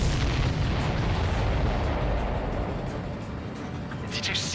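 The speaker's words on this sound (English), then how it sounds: "Did you see that explosion?" Explosion in the Ace Combat 7: Skies Unknown flight combat game as a supply ship is hit, a loud sustained rumbling blast with dense low booming that fills the moment, with game sound effects continuing over it.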